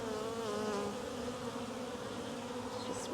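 Honey bees buzz steadily around a newly installed bee package on a homestead, a close, continuous insect drone with a slightly wavering pitch and no talking.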